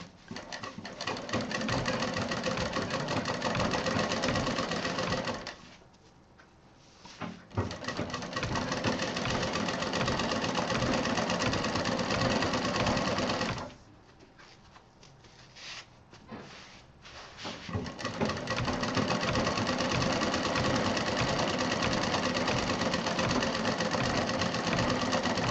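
A sewing machine stitches a DIY fridge handle cover in long steady bursts, stopping briefly twice before running again, loud and close with no talking.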